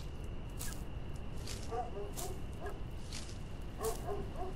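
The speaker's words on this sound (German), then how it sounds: "Der Nachbarschund bellt auch schon wieder." A neighbour's dog barks in short, faint bursts in the distance, a few yips and woofs spread across a few seconds beneath a soft background hum.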